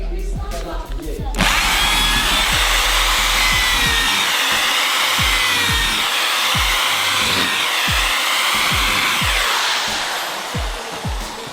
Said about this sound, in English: there is quite a lot of trellis pieces to drill